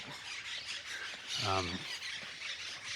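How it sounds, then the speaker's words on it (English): A single loud, harsh squawk from a big bird rises briefly above a noisy outdoor background of chatter and other bird calls in Chapala, Mexico. "noisy birds. big birds. They're going nuts."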